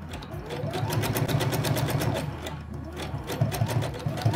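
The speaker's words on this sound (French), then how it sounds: "je reviens au début de ma couture en faisant un point d'arrêt" Sewing machine stitching a fabric gift pouch and back-tacking at the seam start, a steady rapid mechanical whir of needle strokes running continuously and close up, no talk over it.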